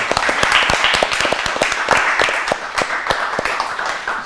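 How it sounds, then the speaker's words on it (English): A studio audience at a Ramadan quiz show claps for the winning Brampton team, sharp individual hand claps overlapping in an uneven, lively burst of applause that keeps going steadily. "give a good claps to the Brampton Believer"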